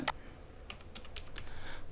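Several quick keystrokes on a computer keyboard as digits of an Aadhaar number are entered for a ration smart card application, scattered taps close and moderately loud over quiet room noise.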